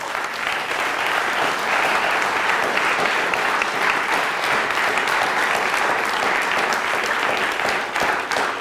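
Audience at a university lecture applauding steadily and loudly, a dense wash of clapping hands that holds at an even level for the whole stretch, with no voices standing out.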